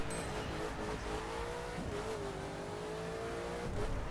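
Supercar engine driving a wet circuit in the racing game The Crew, a steady mid-distance drone with slowly shifting pitch and a brief tyre squeal, no voices.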